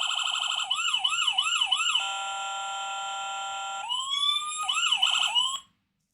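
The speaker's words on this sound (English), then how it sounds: "And that one's just the main siren." A siren sound module on an SCX24 RC truck wails electronically, switching between a fast yelp, a steady tone and a rising whoop before cutting off abruptly, loud and alone.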